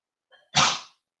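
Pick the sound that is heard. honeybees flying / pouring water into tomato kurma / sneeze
sneeze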